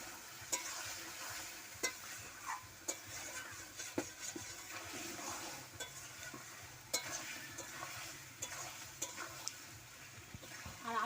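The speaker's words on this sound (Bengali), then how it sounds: "আলুটা দিয়ে দিচ্ছি, দিয়ে আমি আরও কিছুক্ষণ কষিয়ে নিচ্ছি।" Potatoes being sautéed with spices, turmeric and salt for a Bengali rita fish curry, heard as faint continuous sizzling with repeated scraping and stirring clicks of a spoon against the pan, with no talking.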